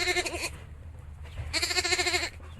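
A sheep bleats in two loud, wavering calls close to the listener, separated by a short pause with a quieter background murmur.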